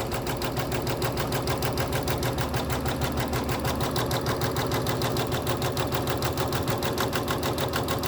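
A sewing machine stitches a quilt held in a magnetic hoop, its needle hammering in a fast, even, continuous rhythm close by, with no talk.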